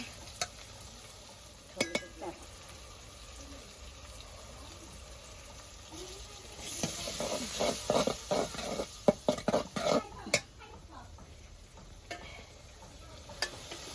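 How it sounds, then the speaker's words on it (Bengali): Spice powder and chili powder hitting hot oil with fried onions in a village kitchen: a low sizzle with scattered clicks, then a burst of scraping stirring strokes midway before it settles back to a quieter fry. "পেঁয়াজটা তেলে ভাজা হয়ে গেছে এখন দিয়ে দিতেছি মশলা গুঁড়া মরিচের গুঁড়া"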